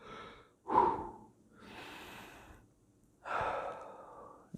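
A person takes slow, heavy breaths, three long airy inhales and exhales separated by short pauses, close and fairly quiet.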